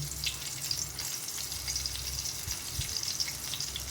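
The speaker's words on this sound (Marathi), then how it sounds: "थोडी जिरं आणि मोहरी ॲड केल्यानंतर आपण मिरची ॲड करणार आहे." Green chillies added to hot oil with cumin and mustard seeds in a small room kitchen for bhurji, giving a steady close sizzle and crackle with faint popping throughout.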